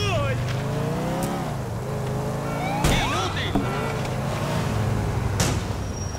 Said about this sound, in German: Alter, das Auto rutscht unendlich lang.